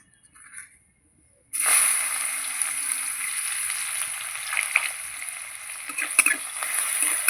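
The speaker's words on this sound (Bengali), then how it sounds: "পেঁয়াজটা একটু ভেজে নেব।" Chopped onion drops into hot oil with nigella seed tempering, a sudden loud sizzle that starts after a quiet moment and keeps frying steadily, with occasional stirring crackles.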